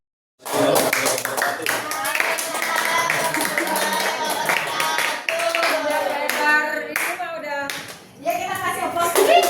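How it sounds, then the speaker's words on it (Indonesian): An audience of teachers at a teacher-training workshop claps for several seconds, a dense, steady patter of hands close by, mixed with voices speaking over the applause. "Ya kita kasih aplaus."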